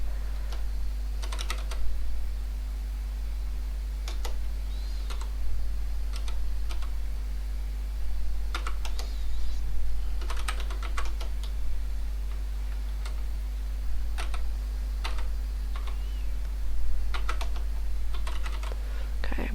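Keys clacking on a Maltron one-handed keyboard, irregular bursts of sharp clicks separated by pauses, close up over a steady low electrical hum, with no speech.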